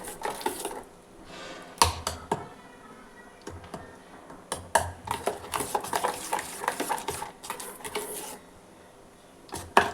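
A sweet snack batter with sugar is stirred in a bowl, giving irregular scraping and clattering knocks of a spoon against the sides, fairly close, with brief pauses between bursts.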